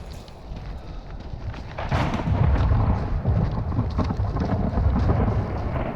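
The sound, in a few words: heavy thunder in the Dolomites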